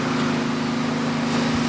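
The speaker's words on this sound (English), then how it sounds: "Please forgive the sound of the engines." Engines idle and drone in city traffic beside a parked Kia Soul EV, a loud, steady low hum with a constant tone throughout.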